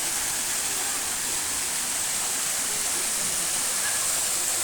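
Mountain spring water pours steadily down into a swimming pool at an old resort in Silang, Cavite, a constant dense hiss and splash like a small waterfall, close and unbroken, with no voices.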